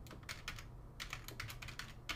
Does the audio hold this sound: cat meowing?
no